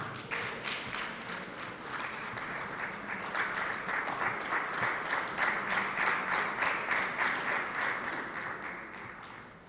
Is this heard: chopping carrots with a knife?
no